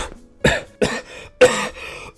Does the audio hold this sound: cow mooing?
no